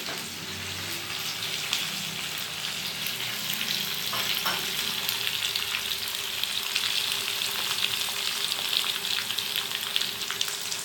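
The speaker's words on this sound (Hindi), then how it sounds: "हल्की आंच पे इन प्याज को बनाना है सालन के लिए" Sliced onions frying slowly in oil over a low flame for a mutton kofta curry, giving a steady, close sizzle with soft crackles throughout and no voices.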